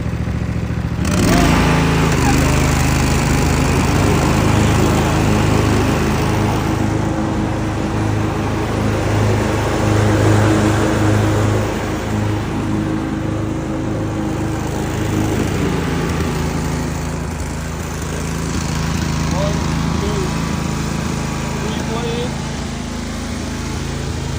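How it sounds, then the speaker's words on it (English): A Lesco 48 walk-behind lawn mower runs with its engine revved up and the blade engaged, a loud, steady, close engine drone that holds for over twenty seconds with a slight drop in pitch partway through. "I'm gonna rev it up, push forward, and engage the blade."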